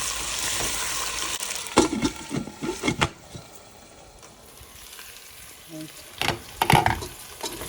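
Potatoes and cauliflower for Punjabi-style aloo gobi get stirred in a pan over low heat, with a soft hiss and bursts of scraping and clatter, then a pause and more scraping near the end.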